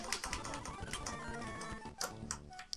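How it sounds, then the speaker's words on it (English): Loud computer keyboard typing during a Pokémon game session, a dense run of rapid clacking keystrokes that continues without pause at close range. "I keep forgetting my keyboard's pretty loud."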